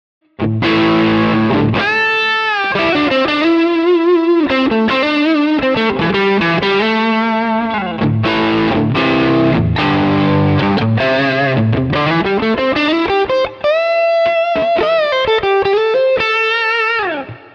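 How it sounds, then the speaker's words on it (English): Electric guitar through a Tube Screamer overdrive set low as a boost, with a mild crunch, playing bluesy licks, bends and sustained notes in a continuous loud phrase. "putting in the tube screamer. So here we've got the overdrive set really low"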